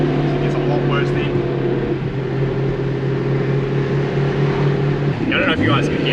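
A Nissan Laurel C33 with a fully forged RB25DET, driven with a damaged axle, gives off a steady drivetrain whine alongside its running engine. The whine holds through the drive while people talk over it.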